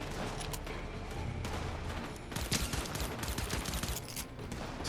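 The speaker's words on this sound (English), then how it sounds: "That sound like two different guns" Dense rattle of gunfire in Fortnite, seemingly from two different guns trading bursts, with steady shots throughout and a heavier cluster of reports in the second half.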